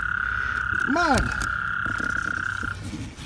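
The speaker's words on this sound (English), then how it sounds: "There's a lot of other frogs down here too, you can hear them." Frogs croak nearby: one loud, bending call stands out over a steady high trill from others, and a person calls out briefly.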